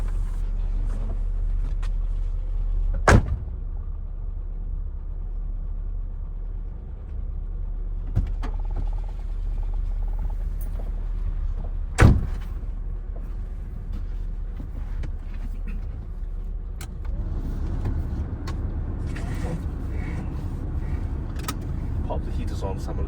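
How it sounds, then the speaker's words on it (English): A grey 1988 Austin Metro 1300 L being driven, with a constant low engine drone and a faint gearbox whine, a few sharp clicks and knocks, and a person talking over it. "so you can hear the lovely gearbox whine. It's normally first and second gear"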